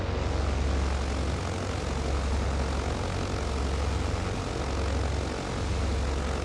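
A steady, loud propeller-plane drone from a flight simulator game flying around Anguilla, St. Martin and St. Barts, deep rumbling engine tone sustained without break and no talking.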